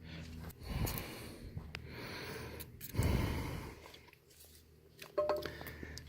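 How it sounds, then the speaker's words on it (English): Heavy, audible breathing close to the listener, with snorting puffs and gasps in uneven bursts, during work on a 250cc TaoTao ATV bearing. "Excuse my heavy breathing."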